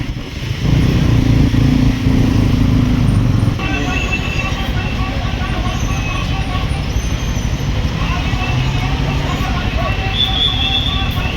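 A motorcycle rides along a road near Thankot and Kalimati, Nepal, its engine droning loudly and continuously with surrounding traffic noise, while riders talk over the wind.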